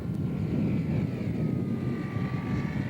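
A scale model aircraft powered by a 9-cylinder Seidel radial engine turning a 24x12 propeller drones steadily and loudly at close range, a continuous even engine roar with a faint rising whine, no talking.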